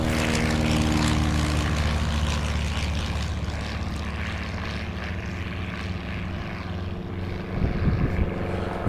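A propeller airplane at a fly-in event roars loudly with a droning engine that slowly fades as it flies off, with a brief bump of noise near the end.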